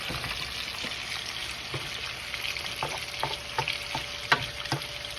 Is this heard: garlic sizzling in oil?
yes